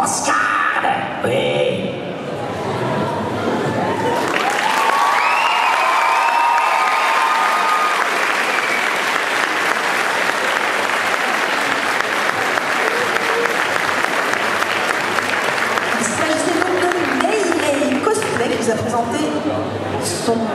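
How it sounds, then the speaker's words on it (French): A convention audience applauds a cosplayer in a Kled costume from League of Legends at a game show cosplay contest. The sustained, loud clapping lasts about twenty seconds while an announcer speaks over it. "On l'applaudit encore une fois."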